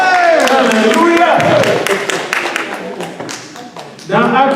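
Congregation clapping at a church service for two singers, scattered hand taps running under a voice that speaks throughout, with the speaking voice rising louder near the end.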